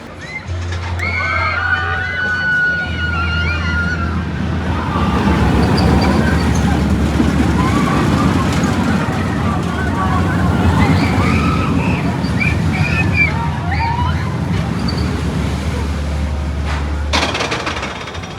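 Boomerang roller coaster at Six Flags Discovery Kingdom running a ride, with a steady loud rumble and clatter of the train on its track throughout and a low droning hum beneath, no talking.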